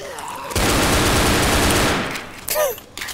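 Rapid automatic gunfire in Left 4 Dead bursts out for about a second and a half, loud and dense, then trails off into scattered shots and game effects.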